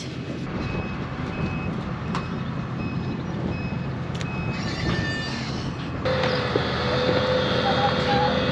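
An excavator on a ranch, its reversing alarm beeping steadily over a continuous engine drone, growing louder and busier toward the end, with voices calling in the background.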